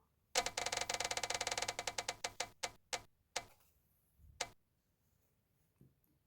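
A prize spinner wheel whirs through a rapid run of clicking ticks that gradually slow and space out, ending in a few last isolated clicks before it stops in a quiet room.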